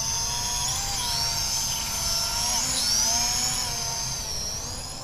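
A Holy Stone HS440 camera drone, a budget self-leveling quadcopter, flies nearby with a steady, high-pitched rotor whine that shifts in pitch as it yaws and maneuvers, continuous throughout with no voices.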